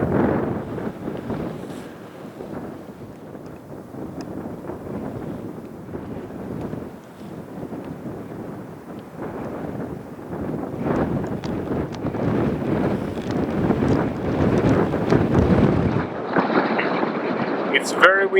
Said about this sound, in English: It's very windy up here now